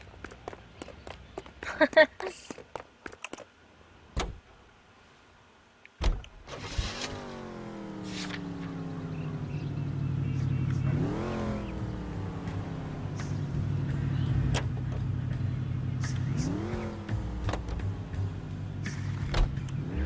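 A car pulls away in the L.A. Noire video game, its engine revving and climbing in pitch through several gear changes. The engine sound is steady and fairly close, after a few short knocks and door-like thumps.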